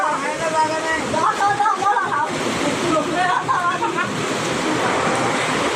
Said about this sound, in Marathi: माझ्या पाठीत समुद्र आहे आणि हे सगळं समुद्राचं पाणी आहे ना